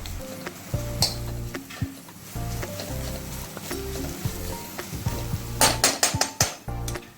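Coriander and curry leaves frying dry in hot oil in a pan: a steady close sizzle with frequent scraping stirs and clinks of a spatula or spoon against the pan, clattering more busily near the end.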